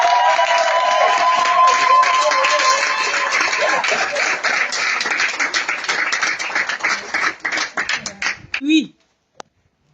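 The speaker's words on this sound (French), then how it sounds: "je pense qu'on doit s'applaudir nous-mêmes pour ça." A crowd at a political party gathering claps loudly and steadily, thinning into scattered claps before stopping, with a voice briefly sounding near the end.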